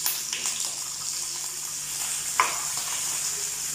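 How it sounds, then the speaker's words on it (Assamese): Onion and finely chopped capsicum fry in hot oil in a home kitchen, giving a steady soft sizzle with a brief sharper crackle midway and no voices. "তেলত পিঁয়াজ আৰু সৰু সৰুকৈ কটা কেপচিকামখিনি দি দিছোঁ"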